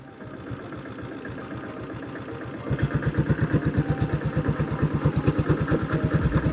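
A 1976 diesel Royal Enfield Bullet motorcycle engine runs close by with a steady low thumping idle that grows louder and punchier partway through, its firing pulses evenly spaced.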